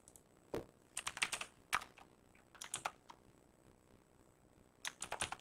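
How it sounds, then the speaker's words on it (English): Keys on a computer keyboard clatter in quick bursts of close, crisp taps separated by short pauses, with no talking. "I can't see what I'm even typing"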